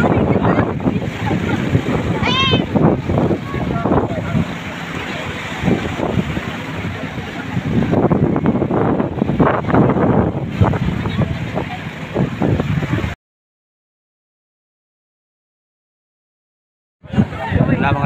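A racing boat engine roars during a barangay boat race in Antique, heard over wind and splashing water with someone talking excitedly over it, before a few seconds of silence.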